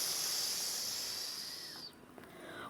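A human voice mimics a loud snore of a man sleeping on his back, producing a long breathy hissing exhale that trails off into quiet.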